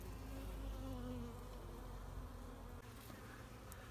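Honeybees buzz steadily and loudly throughout an open-hive inspection, a dense continuous drone of many wings close by, with no talking.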